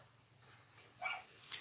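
A dog barks faintly twice at a distance, short sharp yelps separated by a brief pause over a quiet indoor background hum.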